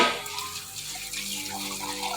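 Tap water runs steadily into a sink while dishes are washed, a continuous close splashing rush with faint clatter and no talking.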